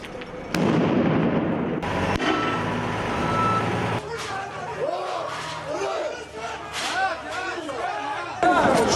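Police sound grenades bursting during street clashes with stone-throwing protesters in Jerusalem, amid tear gas: a few loud, sharp bangs spaced seconds apart over a churning crowd, with shouting voices and chatter filling the gaps.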